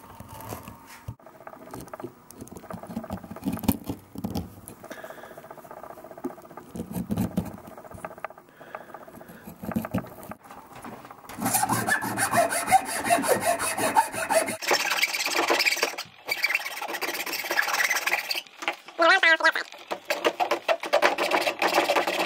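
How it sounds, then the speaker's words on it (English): A sharp chisel pares the edges of a wooden bodysurfing handplane, giving close scraping and rasping strokes that grow denser and louder midway, with no speech. "So you're going to take a sharp chisel and just pare down the edges here."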